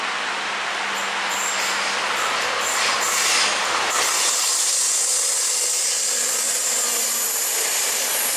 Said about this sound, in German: der Regionalexpress nach Stuttgart, geschoben von einer Diesellok